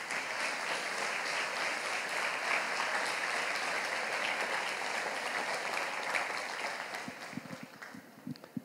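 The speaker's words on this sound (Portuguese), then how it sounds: "Dê uma salva de palmas ao Senhor" A church congregation gives a sustained round of applause for the Lord, a thick, steady clapping from many people that gradually thins into scattered claps at the close.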